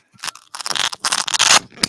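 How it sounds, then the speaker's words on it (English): Velcro being ripped apart in several quick tearing bursts, loud and close, with short pauses between pulls and no talk over it. "that sounds like Velcro"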